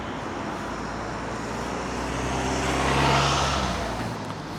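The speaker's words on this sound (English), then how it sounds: "let's stand here and listening to the cars." Road traffic moving through a roundabout, recorded outdoors on a slightly windy day with a wind muff on the mic: a steady low engine and tyre rumble that swells as a vehicle passes close around the middle, then eases off, with no talking.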